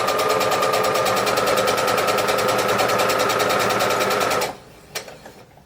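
A sewing machine runs loud and close in a fast, steady stitching rattle for about four seconds, then stops abruptly, leaving a couple of faint clicks.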